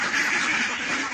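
A flock of domestic ducks in rural Bangladesh quacks nonstop, many birds overlapping into a dense, close, steady chatter for the whole moment.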